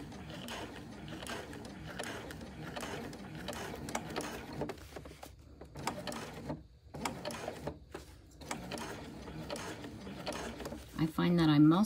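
A sewing machine top-stitches through a tote bag, giving a steady, close mechanical whir and ticking that runs under a person talking throughout.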